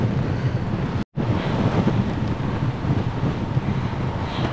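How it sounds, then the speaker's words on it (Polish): Strong wind roars continuously over the microphone while riding a gravel bike on the trail around the Tatras, a loud dense rush broken only by one brief dropout. "Chyba ktoś włączył wiatr."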